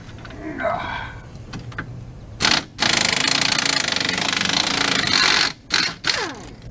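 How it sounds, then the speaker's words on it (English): A pneumatic air impact tool hammers bolts off the front end of a Polaris RZR 800 in loud sustained rattling bursts, close by, with brief pauses between runs and some talk underneath at the start. "Again, I use the air tools as much as I can."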